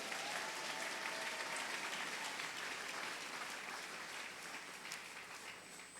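A church congregation applauds in a steady, dense wash of clapping that stays even for the whole stretch and fades slightly toward the end, with no voices heard.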